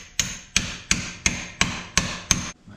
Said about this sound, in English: we should be able to just tap that bearing out.